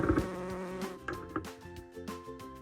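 Fuzzy bees buzz close by among flowers in uneven bursts, their hum rising and falling with small clicks and rustles.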